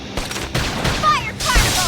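Rapid bursts of gunfire crackle through a Xenoblade Chronicles X combat exchange, short volleys broken by brief gaps, loud and close, with a voice speaking over the shots.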